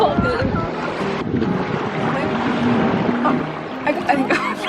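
Ocean surf washing and pulling at a Maui beach shoreline, a steady churning rush with gusts of wind buffeting the microphone and voices faintly in the mix.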